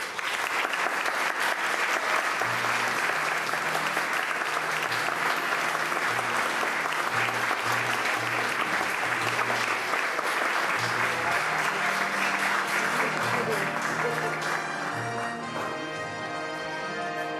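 Sustained audience applause at a Hall of Fame induction ceremony, dense clapping that fills the room and holds steady, with music underneath that becomes clearer as the clapping thins near the end.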